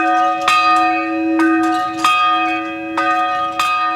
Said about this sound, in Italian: Il suono della campana scandisce ancora le ore del giorno.